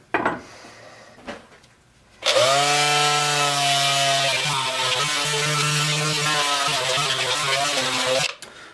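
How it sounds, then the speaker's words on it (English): A power sander working on a wooden axe handle, starting up abruptly after a few brief knocks and running loud and close with a steady whine for about six seconds before cutting off. "So I'm sanding it a little bit even."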